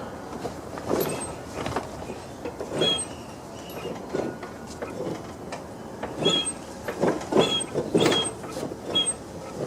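A Troy-Bilt Pony riding mower's small engine clatters and rattles unevenly, with irregular knocking bursts and metallic clanks over a rough running drone.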